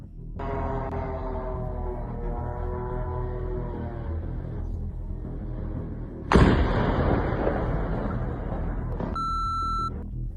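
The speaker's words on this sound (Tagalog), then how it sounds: "Malakas ang pagsabog sa pag-ataking ito" A sudden loud blast from a strike on a Russian war factory cuts through a steady background rumble, leaving a noisy roar afterward, with a few electronic beeps near the end.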